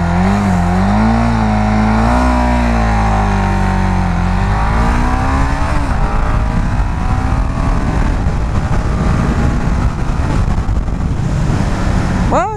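KTM Duke 690 single-cylinder motorcycle accelerating hard in sport mode, engine pitch rising through the gears with a loud, close, continuous roar and heavy wind rush, no talking.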